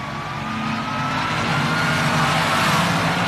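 Drag racing cars launch side by side from the line at the 1977 NHRA Springnationals, a roaring engine rumble that swells as they pull away.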